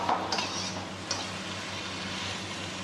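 Ginger goes into a pan and is stirred, with a couple of light metallic clinks and scrapes over a soft, steady sizzle. No voices.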